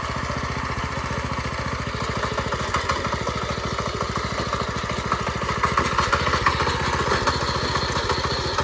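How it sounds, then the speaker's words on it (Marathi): A newly bought tractor runs while ploughing a farm field, its engine giving a close, steady, rapid thudding pulse that holds an even rhythm throughout, with no voices. "ट्रॅक्टर चालू आणि फोड करायला सुद्धा सुरुवात केलेली आहे."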